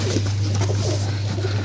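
Pigeons coo in steady, overlapping murmurs, loud and close, over a constant low electrical hum with no talking.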